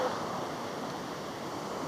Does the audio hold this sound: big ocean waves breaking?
yes